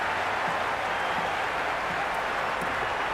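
Steady stadium crowd buzz from the stands during a Cricket 26 IPL match featuring the Mumbai Indians, a dense, continuous roar with faint scattered claps, heard alone without talk.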